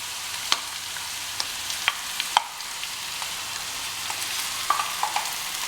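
Mutton mince fries in a pan, a steady soft sizzle with occasional small crackles and scraping stir sounds, close but fairly quiet.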